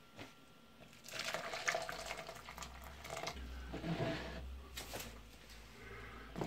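Boiling water poured from a measuring jug into a slow cooker holding beef stew with stock cubes, a steady liquid splash and trickle running for several seconds at close range, no talking.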